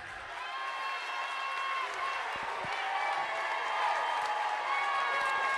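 A crowd at a high school basketball state sectional playoff cheers and roars continuously and loudly, a dense wash of voices that swells slightly toward the end.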